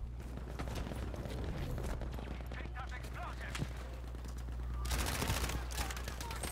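Bombs go off in the Battlefield V video game amid a dense, continuous rumble of gunfire and blasts, with a louder burst of explosions near the end.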